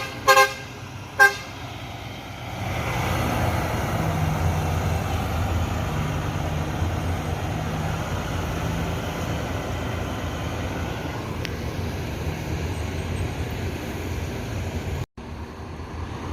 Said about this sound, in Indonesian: Bus Al Hijrah plat putih yang pertama keluar Terminal Baris Solok.